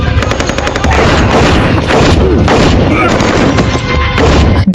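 Dense, continuous gunfire from an action scene in the 2008 film The Shepherd, with rapid shots and booms ringing out loud and close for the whole stretch as a crowd scatters.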